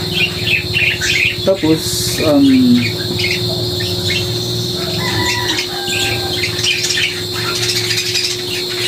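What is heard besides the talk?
pet birds chirping at a breeder's place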